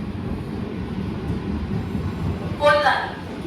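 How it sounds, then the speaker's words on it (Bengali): A Sealdah–Kalyani AC local train on its first run rumbles steadily from inside the carriage, with a low continuous hum and a brief voice rising near the end. "তো আমি ভাবছিলাম ট্রেনের আওয়াজ বোধহয় বাইরের ট্রেনের আওয়াজ একদমই শোনা যাবে না কিছুটা তো শোনা যাচ্ছে অন্তত"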